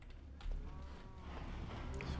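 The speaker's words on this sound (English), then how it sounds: "You hear beautiful cows again." Cows mooing in Minecraft, a low drawn-out moo at moderate distance, heard faintly over quiet background game sound, with no talking.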